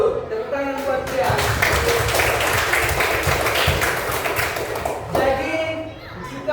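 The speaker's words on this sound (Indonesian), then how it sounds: "Tepuk tangan buat dia." A classroom of students breaks into applause, a dense burst of many hands clapping for several seconds before fading, with children's voices around it.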